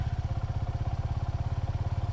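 Freshly started motorcycle idling in neutral, a steady, rapid low chugging pulse, close and even throughout, with no voices.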